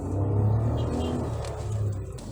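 A 2022 Nissan Almera with a CVT gearbox driving along, giving a steady low engine and road rumble from inside the cabin with no talking.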